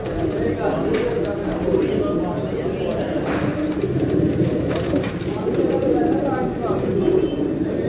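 Pure Sialkoti Batere pigeons cooing continuously in a dense, loud chorus, steady throaty rumbling throughout with faint higher chirps and background noise.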